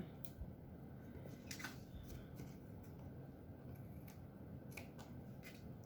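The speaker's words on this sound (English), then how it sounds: "take your scissors and just trim off that extra from the back like that" Scissors trim excess designer paper off a handmade card: a series of faint, crisp snips and small paper rustles, close by, without talk.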